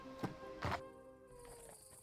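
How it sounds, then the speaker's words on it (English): A horse's hooves land on a bridge as two hollow, separate thuds less than half a second apart, very faint, then only quiet background remains. "filming live footage of a horse walking over a bridge"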